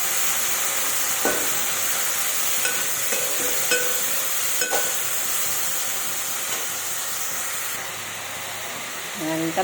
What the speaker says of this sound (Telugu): అదంతా బాగా కలపాలి మంచిగా